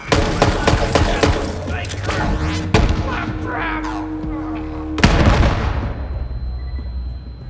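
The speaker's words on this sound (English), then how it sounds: "Homing rockets" Homing rockets firing in the video game Borderlands 3: a dense volley of sharp launches and booming blasts, with two heavy impacts standing out before the barrage trails off into a ringing tail.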